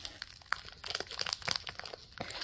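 A package is cut open: soft crinkling and crunching of plastic wrapping with scattered small snips and rustles, quiet and close, with no talking.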